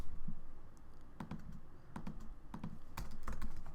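Close-up typing on a computer keyboard, bursts of quick key clicks with short pauses between them, no voices.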